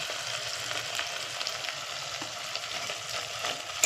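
Salt and turmeric spices fry in oil in a pan, a soft continuous sizzle with faint crackles and scraping, heard alone and fairly quiet.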